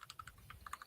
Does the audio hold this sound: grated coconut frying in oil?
no